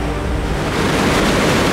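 A roaring cascade right beside the listener, a dense, loud, unbroken rush of falling water that swells slightly louder toward the end, with no other sounds above it.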